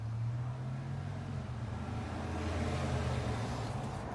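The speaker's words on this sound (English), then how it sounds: "I apologize for the street noise" Steady street traffic noise from a city neighborhood, a low continuous rumble of engines and tires with a faint hum, heard from beneath a building's roof overhang at moderate distance.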